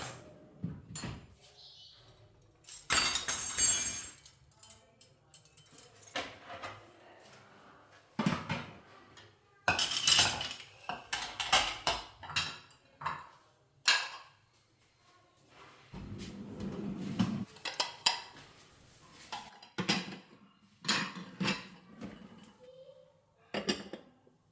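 A new crockery dinner set being handled and put away in a home, with repeated sharp clinks and knocks of plates and cutlery coming in irregular bursts, close and fairly loud, between quieter pauses.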